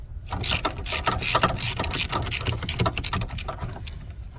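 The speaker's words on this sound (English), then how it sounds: "Here's my handy dandy rotating socket wrench I showed you a bunch of times." Rapid, steady ratchet clicking from a socket wrench loosening the alternator bolts on a Chevy truck, close and fairly loud, running almost continuously with brief pauses between strokes.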